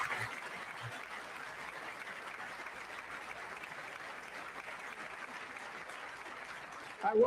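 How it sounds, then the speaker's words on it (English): Audience in a large hall applauds a political speech with sustained, dense clapping that holds steady for about seven seconds before a louder burst at the end. "I wasn't sure if anybody even on this side was going to applaud for that."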